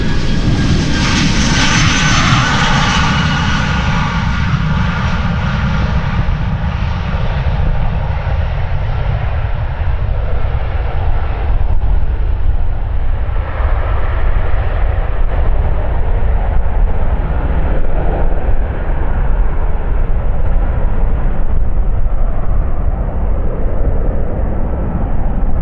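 An Embraer jet spools up and rolls for departure on runway 36L at Amsterdam Schiphol, a loud, continuous engine roar that stays close and steady with no voices.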